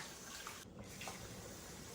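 Cold water runs and splashes as an ingredient is rinsed for Honduran pork tamales, a soft continuous trickle with a few faint splashes, quiet and close.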